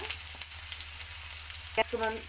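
Chopped onions fry in a pan for a Gobi Manchurian, giving a soft steady sizzle close by with a brief stirring scrape near the end.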